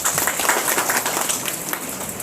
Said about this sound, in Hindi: एक बार तालियां भी बजाओ